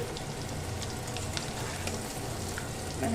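Potatoes fry in hot oil with a constant crackling sizzle, scattered sharp pops rising from a steady bubbling bed at moderate loudness and no voices.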